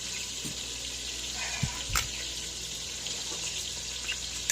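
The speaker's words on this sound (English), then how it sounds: "Did you wash this celery?" Celery being washed under a running kitchen tap, a steady hiss of flowing water with a few soft knocks and handling bumps, moderately close and without talk.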